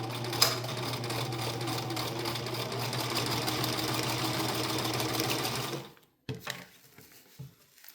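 A sewing machine stitches elastic into a cloth diaper in a steady, rapid whirring run that stops abruptly, followed by a few soft handling clicks and near silence.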